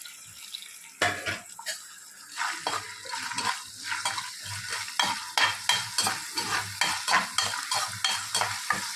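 Chana dal, cumin, mustard seeds, green chili and curry leaves fry in hot oil with a bright crackling sizzle, overlaid by rhythmic stirring scrapes repeating about once a second, close and moderately quiet.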